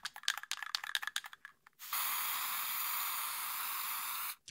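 Spray paint hissing onto a camera in a South Park scene: one steady, loud spray lasting about two and a half seconds, following a quick series of short puffs.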